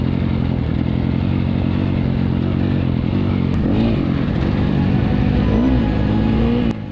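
A 250cc dirt bike races in a hare scramble, its engine droning loud and close at steady high revs, with rattling and clatter throughout.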